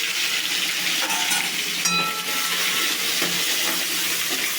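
Mustard seeds, cumin, tomatoes and curry leaves sizzle in hot oil with a continuous crackling hiss, broken by a few brief clinks and stirring sounds.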